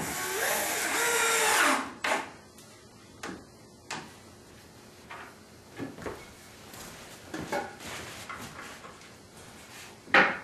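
A long screw is driven into a Bear Chair BC800 loveseat during assembly, heard as a loud whirring power-drill burst followed by short bursts of drilling and knocks spread across the clip.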